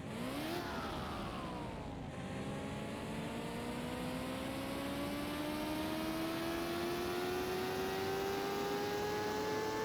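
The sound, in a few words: hypercar engine revving on a dyno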